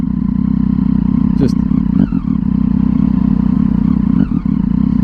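Engine of a 2011 Triumph Street Triple 675R three-cylinder motorcycle, a loud, steady close-up hum under way with a few brief clattering ticks and small shifts in pitch, no talk over it.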